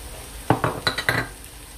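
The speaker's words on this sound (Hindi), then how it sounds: "तो अब यहाँ पे मैं ये जो रेड पेपर है ये डाल रही हूँ और गाजरें जो डाइस करके रखी हुई थी ये डाल देनी है" Red pepper and diced carrots are tipped into a hot pan, giving four or five quick clattering, sizzling bursts in close succession over a low background hiss, with no voices.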